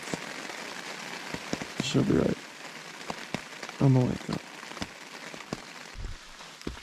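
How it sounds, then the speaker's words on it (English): Light rain falling on a mountain hiking trail, a steady soft patter with scattered sharper drops, while a person talks briefly in between. "And raining, light rain right now, which is pretty good."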